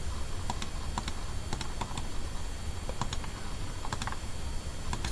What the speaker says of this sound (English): I'm going to be typing it.